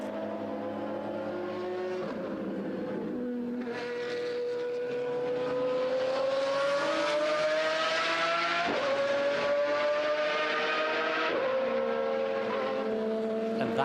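Pagani Zonda R race car at Silverstone, its engine loud and close, revving and climbing through gears with sharp shifts, a sustained high-pitched howl that swells as it nears and passes.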